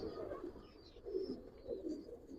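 Giribaz racing pigeons, a female among the tournament birds, give soft, low cooing phrases in a quiet loft, faint and intermittent across a couple of seconds.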